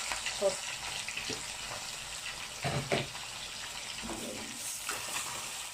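Meat sizzles and crackles in a frying pan as the first step of a fried okra soup, a steady hiss with a few sharper pops and stirring noises, close and moderately loud throughout.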